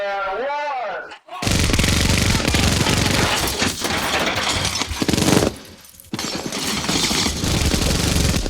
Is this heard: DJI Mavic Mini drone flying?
no